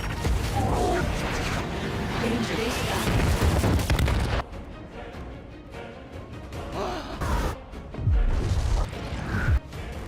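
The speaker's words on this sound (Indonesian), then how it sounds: "Karena tembakan yang sangat dahsyat, Ultraman dan juga jatuh dan tergeletak di tengah lautan" Missile fire and heavy crashes from the Ultraman Rising animated film build into a dense, loud barrage of booms and impacts, then break into scattered thuds and whooshes.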